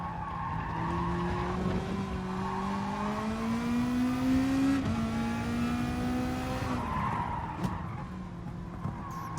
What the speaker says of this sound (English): listen to the sounds of the car as we take the final corner